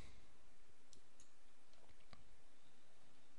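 Faint, sparse computer mouse clicks, a few sharp isolated ticks over a quiet hiss of background noise.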